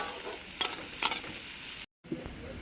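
Chopped onions fry in oil with sugar and cardamom, a constant sizzle punctuated by two crisp stirring scrapes, then a brief dropout before the frying resumes, close and with no talking.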